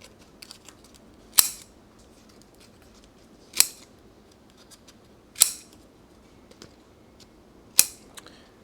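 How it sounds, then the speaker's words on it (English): Four sharp snips of right-handed scissors cutting paper, spaced about two seconds apart, crisp and close over a quiet background. "I can't use these damn scissors"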